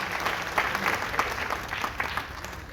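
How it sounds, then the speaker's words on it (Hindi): Audience applause for poet Ankita Singh at an all-India poetry gathering in Mumbai, a steady dense crowd clapping that holds at moderate loudness from start to finish. "जरा जोरदार तालियां आप अंकिता के साथ"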